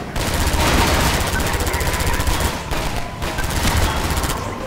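Sustained automatic gunfire in the shooter game Half-Life 2, loud rapid rattling bursts firing almost continuously with brief pauses, close and dense.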